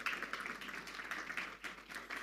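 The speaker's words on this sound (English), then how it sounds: "We can usher them back with a round of applause." An audience at an EdTech fellowship kick-off event gives a round of applause, faint and distant, with steady clapping throughout.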